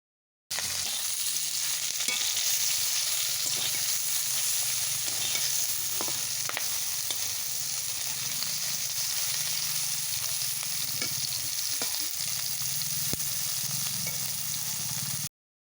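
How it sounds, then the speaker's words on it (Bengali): Fish frying in hot mustard oil in a wok for a Bengali prawn and jackfruit dish, giving a steady, close hiss of sizzling oil that runs unbroken throughout, with a few faint clinks. "এরপর মাছ ভেজে নেব।"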